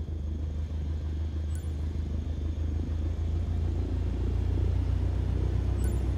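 Cessna 172 piston engine in Microsoft Flight Simulator 2020, a steady low propeller drone that swells gradually as the throttle comes up for taxi, no talk.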